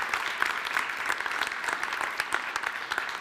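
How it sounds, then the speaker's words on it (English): Audience applause at a tourism industry event on women's empowerment, a dense, even round of clapping heard close and continuous throughout, with no voices over it. "We can give her a round of applause."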